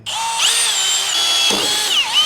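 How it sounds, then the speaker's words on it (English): A power drill with a 1/4-inch bit whines loudly as it bores through a metal kickstand lift block for a Harley FXR, the motor pitch rising and dipping with a brief grinding bite in the middle; no talking. "now we're stepping up to our 1/4-inch drill bit size"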